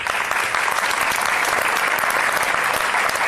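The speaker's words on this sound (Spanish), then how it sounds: "Bueno, pues después de este aplauso" An audience at a public talk gives steady, dense applause, many hands clapping evenly and close throughout with no voices breaking through.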